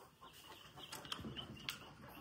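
Chickens on a poultry farm, including a newly released hen, give soft scattered clucks and short calls, fairly faint, with no talking.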